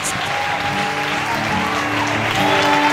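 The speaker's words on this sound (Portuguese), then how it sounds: "Aplauda ao Senhor em nome de Jesus." A church congregation at a worship service applauds together, a thick, even clatter of clapping mixed with sustained musical tones from the band playing underneath.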